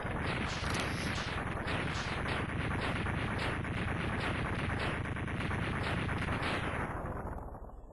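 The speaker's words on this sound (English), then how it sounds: "I'll just give him a nice lemon shot right there." Mega Man X2 buster lemon shots fire in a fast, continuous, loud stream of small blasts, easing off at the very end.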